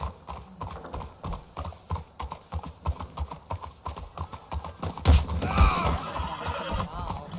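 Horses clip-clop steadily at a walk in the video game Red Dead Redemption 2, with rhythmic hoof beats, a whinny, and a louder rustling clatter midway.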